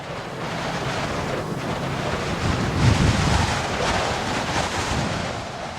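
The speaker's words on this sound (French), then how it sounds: "Tout à coup, il y eut un grand bruit de vent." A loud, rushing gust of wind roars continuously, swelling slightly in the middle, with a broad hiss like surf or a storm; no voices.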